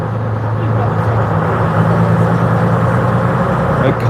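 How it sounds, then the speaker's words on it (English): A bus at a festival of transport on Barry Island runs with a steady low engine drone and a constant hum, heard from inside, loud and unbroken for several seconds. "Oh, this bus sounds amazing."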